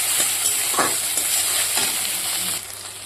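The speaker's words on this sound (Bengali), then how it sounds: "একটু লাল লাল করে ভেজে নেব" Food frying in hot oil until reddish brown, with a steady close sizzle and occasional scraping stirs, continuous throughout and quieter toward the end.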